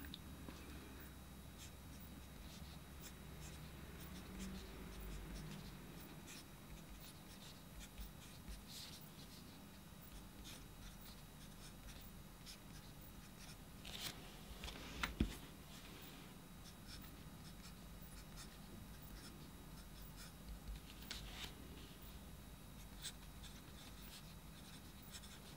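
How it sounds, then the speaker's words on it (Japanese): Soft, steady scratching of a Delta Dolcevita piston-filling fountain pen nib gliding smoothly across paper, close and quiet, with a few small taps and rustles along the way. "ペンなりの音が聞こえますかね。"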